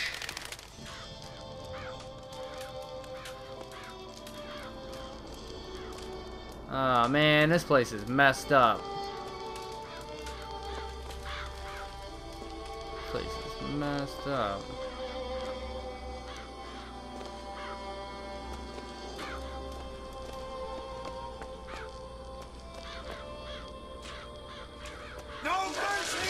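Birds caw and squawk in BioShock Infinite, harsh crow-like calls bursting loudly in a cluster of strident cries, then a shorter flurry, over steady game music and ambience while someone talks throughout.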